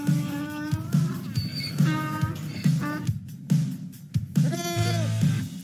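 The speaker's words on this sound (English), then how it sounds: "I have sheep that I bring to all youth rodeos" Sheep at a youth rodeo bleat loudly and repeatedly at close range, several wavering calls overlapping one another with short gaps between them.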